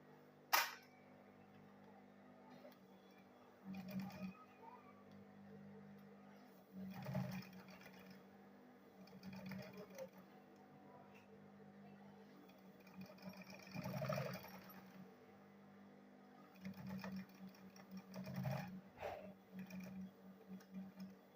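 A sewing machine stitches leather for a school bag in short intermittent runs of rapid ticking, fairly faint and close, with pauses between bursts.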